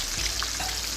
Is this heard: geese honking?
no